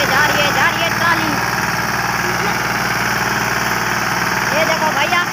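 A tractor pulling a trolley drives past, its diesel engine laboring with a steady rough mid-pitched drone and knocking rattle throughout, fairly loud and near, with someone talking over it.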